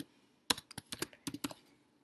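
Keys tapped on a computer keyboard while entering product variant text in an online store builder, a quick burst of about a dozen close, crisp clicks over roughly one second, then quiet.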